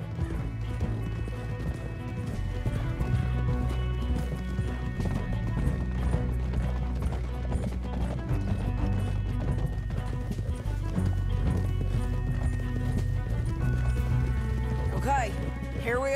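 Rapid hoofbeats of galloping horses in Red Dead Redemption 2 under dense music and a loud rumbling mix, with occasional crashes and a whinny-like cry near the end.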